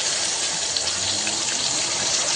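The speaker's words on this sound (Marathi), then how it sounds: "कोबी छान स्वच्छ धुवून घ्यायचा" Running tap water washing cabbage, a steady close gushing stream into a sink while making a pea pulao, continuous and fairly loud with no talk.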